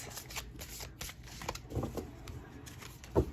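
Tarot cards being shuffled by hand during a card reading, a run of soft riffling and sliding flutters in short bursts with a sharper snap near the end, close up and quiet, with no talking.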